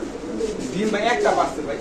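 A Lahori pigeon coos close by in a short, throaty burst while a person talks over it.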